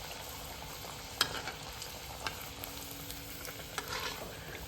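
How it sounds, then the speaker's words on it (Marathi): Breadcrumb-coated veg lollipops deep frying in hot oil, giving a continuous crackling sizzle with a few sharp ticks and clinks, close and even in level with no voices. "लॉलीपॉप आपल्याला चांगला तळून घ्यायचा आहे."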